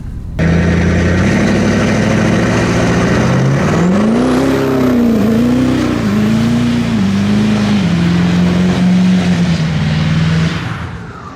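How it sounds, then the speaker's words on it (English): A loud, close 6.7 diesel street truck doing a burnout, the engine droning steadily, then revving up and wavering in surges as the tires spin, a high squeal rising over it before it fades out. "Think it'll do a burnout?"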